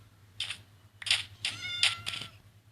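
A cat in the Minecraft video game meows in four or five short, clear calls spaced through the moment, alone over a faint background hum.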